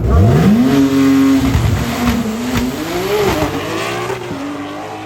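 A 2022 Shelby GT500 race car accelerates hard at the FL2K23 drag racing event, its loud engine note climbing steeply, holding, then surging through further rising pulls, close and continuous.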